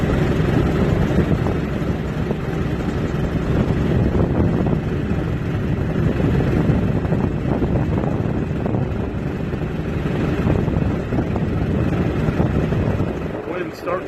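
Strong wind gusts roar across the microphone outdoors during tree cutting, a continuous loud rushing noise with brief surges, with someone talking over it.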